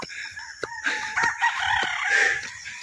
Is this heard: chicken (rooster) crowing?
yes